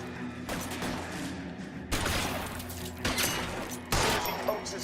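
Gunfire in the L.A. Noire video game, with rapid volleys of shots in several loud bursts over a steady noisy backdrop.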